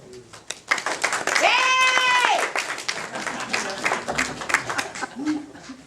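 A neighborhood council candidate forum audience claps and cheers, with a whoop or whistle rising over the clapping, then the applause thins into scattered claps as voices talk nearby.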